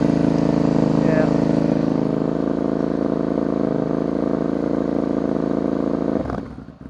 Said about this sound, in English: the bike's trying to stall again